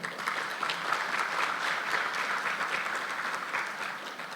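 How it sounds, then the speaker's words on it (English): Sustained applause from a conference audience at a business expo keynote session in Ghana, steady and fairly loud throughout with no talk over it. "Please, a big round of applause for him."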